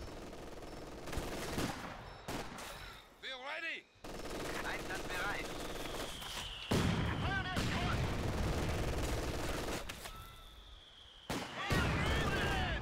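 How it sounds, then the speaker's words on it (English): Machine gun and mortar fire in the World War II strategy game Company of Heroes 2 set in a forest: repeated rattling bursts and heavy booming impacts, loud and layered, with a voice talking over the battle. "I got a machine gun overlooking them, so... Oh, uh, a mortar pit here."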